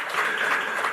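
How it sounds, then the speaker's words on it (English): A conference audience gives a short, steady burst of applause for co-panelists at a women's finance event in South Africa, with dense clapping filling the whole moment. "So maybe you can give them a round of applause."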